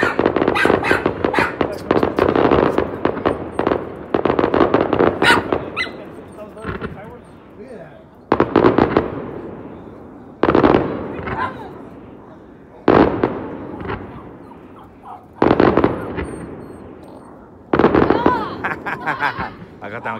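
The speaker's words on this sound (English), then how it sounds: "Fireworks" Large fireworks display bursting in repeated loud booms and crackles, heavy at first and then in separated blasts every few seconds, with people talking faintly in between.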